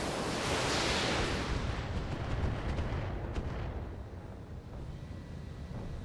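Cannon or artillery firing in a video game, a single heavy boom with a rumbling roar that slowly decays over several seconds.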